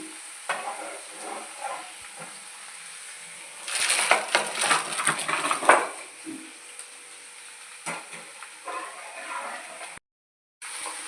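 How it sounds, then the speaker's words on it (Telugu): Fenugreek leaves sizzle in a hot pan while a spoon stirs and scrapes, with a louder burst of stirring in the middle. "ఇదిగోండి మెంతి కూర బాగా ఫ్రై అయిపోయింది"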